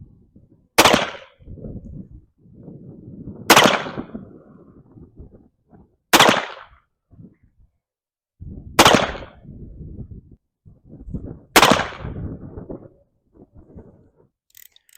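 Five loud, sharp gunshots from an M1861 Spiller & Burr revolver fired outdoors at a target, spaced a few seconds apart, with fainter handling noises between the reports.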